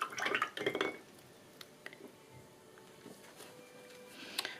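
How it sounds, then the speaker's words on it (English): A paintbrush is swished and rinsed in a water jar while painting a phoenix's eye, giving a few close splashy bursts at the start, then faint drips and small clinks against quiet. "so wash off the brush"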